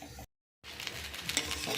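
Egg chicken chowmein stir-fried in a wok with a little oil, boiled noodles being mixed in; a soft, continuous sizzle with scraping stir strokes follows a brief dropout near the start.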